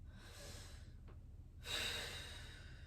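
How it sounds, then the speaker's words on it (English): A slow, deep breath taken during a stretching routine, heard as a soft, airy exhale followed by a brief pause and a fuller, louder inhale, close and alone with no talking. "Nice deep breath."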